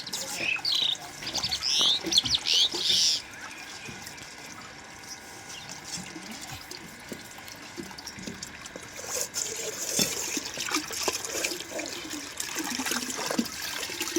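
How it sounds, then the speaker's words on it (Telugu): Water running through a pipe into a blocked drain to flush it clear, a soft continuous trickle and gurgle, with birds chirping early on and a person talking. "ఇట్లా పైపుతో వాటర్ లోపలికి వెళ్ళిద్ది కాబట్టి మనకి వాటర్ వెళ్ళిద్ది."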